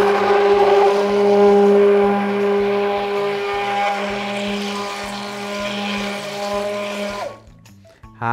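A mixer running on turbo speed whips homemade natural intimate soap, giving a loud, steady, close motor whine that holds throughout and cuts off abruptly near the end.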